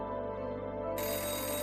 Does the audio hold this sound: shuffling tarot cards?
no